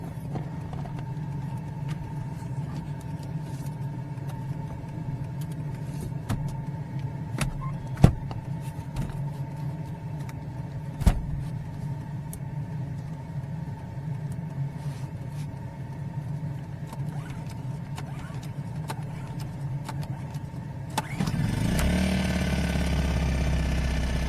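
A generator runs steadily through a winter morning with night temperatures in the teens, a constant low engine drone with a few sharp clicks, growing louder and rougher near the end; no one speaks.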